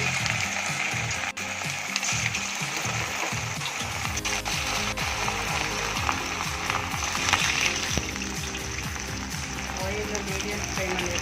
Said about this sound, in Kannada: ಈಗ ಎಣ್ಣೆ ಕಾದಿದೆ. ಒಂದು ಪ್ಲೇಟ್ ಗೋಬಿನ ಬಿಡೋಣ.